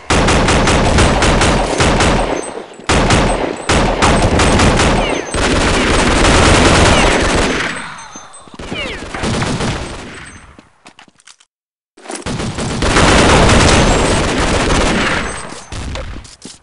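CROW-7 rifle fire in the online shooter Counter-Strike Online, with loud close rapid automatic bursts in long strings, broken by short pauses and a brief silence.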